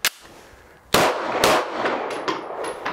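Sharp gunshots from a Canik SFx Rival competition pistol: one crisp report at the start, then after a pause a second louder shot with echoing reverberation and ringing tail, alone without speech.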